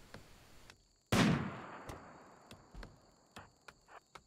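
Gunfire in the colony-building game RimWorld during a raid on the colony: one loud, sharp shot followed by scattered fainter shots and clicks spaced irregularly over a steady tonal hum, no talking.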